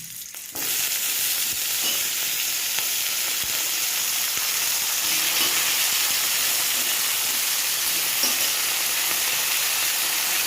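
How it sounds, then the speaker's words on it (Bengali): Cut eggplant and potatoes drop into hot oil alongside rohu fish, and an abrupt loud hiss of frying follows, holding steady with faint clinks and stirring scrapes throughout. "এবার কেটে রাখা বেগুন আর আলুগুলিকে এর মধ্যে দিয়ে দেবো।"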